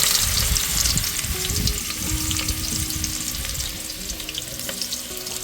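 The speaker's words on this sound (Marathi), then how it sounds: "तिकडे आता आई टोपामध्ये टाकते कांदा." Onion frying in a cooking pot for a village crab dish gives off a loud, steady, close hiss and crackle throughout, with no one talking.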